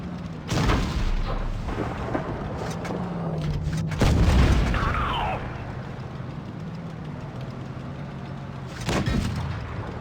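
Tank cannon shots in World of Tanks Blitz, a few booming blasts at the start, near four seconds and again near nine seconds, over a steady engine rumble with no talking.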